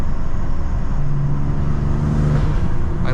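BMW G87 M2 with RaceChip GTS Black tune and Eventuri intakes pulls hard under acceleration, a steady loud in-cabin drone of turbo engine and road noise with a rising tone across the run, no talking.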